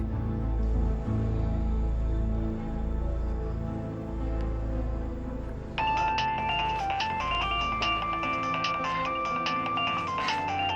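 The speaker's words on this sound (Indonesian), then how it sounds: "Ya udah, coba aja telepon ke HP." Partway through a dense, noisy scene in an Indonesian drama, a mobile phone ringtone starts up, playing a bright stepping melody that repeats loudly over the busy background.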